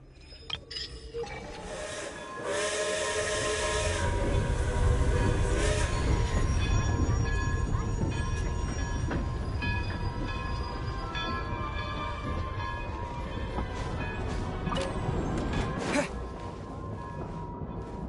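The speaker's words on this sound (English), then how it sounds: "I need my train." A train arriving in the Genshin Impact video game, a rumbling rail roll with clanking and metallic chimes that swells in and holds steady for over ten seconds before easing off, fairly quiet overall.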